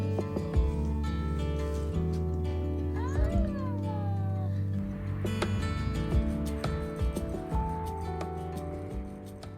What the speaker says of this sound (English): I met another random cat who was waiting outside in the kitchen for some food.